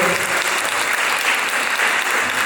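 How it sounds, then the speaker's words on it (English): A full room at a job fair and career summit applauds five speakers: thick, sustained clapping from many hands, even and loud from start to finish. "Can I have a round of applause for the 5 amazing speakers that we have today?"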